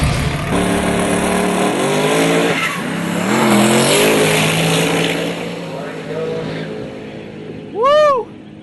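A drag racing car makes a fast full pass down the strip at nearly 200 mph, its loud, sustained engine roar rising and falling as it charges past with no one speaking.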